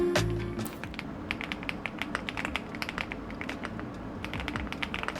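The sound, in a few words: typing on Inky 75 mechanical keyboard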